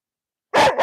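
A pet dog named Lua barks loudly and close by, one sharp bark followed quickly by a second after a brief silence.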